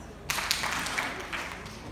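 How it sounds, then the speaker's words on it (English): A sudden burst of audience clapping at a morning event, with a couple of sharp, emphatic beats at the start giving way to a blurred, fading patter, at moderate distance. "if you can hear me, clap two times"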